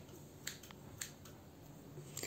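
Scissors snipping through white paper to cut out drawn eye circles: a few faint, crisp snips spaced apart, then a quick cluster of cuts at the end, alone in a quiet room.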